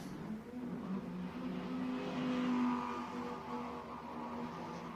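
A McLaren GT4 race car accelerates away from the line at Misano during a GT4 European Series race, its engine note rising and droning at moderate distance, fairly faint and steady.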